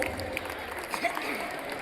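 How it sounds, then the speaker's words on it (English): School audience clapping for student achievers at a college fest, a continuous faint patter of applause across the short span, with some crowd noise underneath. "Clap it loud, everyone"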